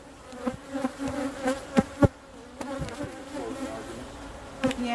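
Honeybees buzz around an opened hive as it is cut down to two brood boxes for winter, a soft continuous drone with individual bees zipping close past now and then, with no talking.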